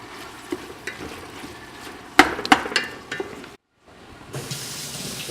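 Steamed vegetables sautéing uncovered in a pan, a low steady sizzle with a cluster of sharp utensil clacks against the pan midway, a brief silent gap, then the frying hiss returning louder.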